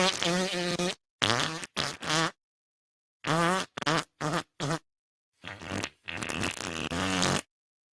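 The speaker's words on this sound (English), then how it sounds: "that's an AI video of Fat Joe farting" Farting sounds from an AI-generated clip, a series of loud, close, buzzing blasts of varying length separated by short silences, some long and sputtering.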